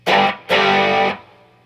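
An electric guitar with distortion plays a riff: two loud, gritty strummed hits, a short stab and then a longer sustained chord that cuts off and leaves a fading ring.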